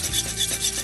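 Beaten eggs with soy sauce scrambling in a hot pan, a steady close sizzle with scraping, rubbing strokes of a utensil across the pan surface, continuous and moderately loud.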